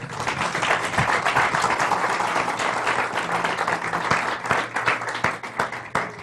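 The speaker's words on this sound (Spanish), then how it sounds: "Un aplauso al Señor." Enthusiastic applause from a church congregation, steady and dense for several seconds, with scattered sharper claps standing out.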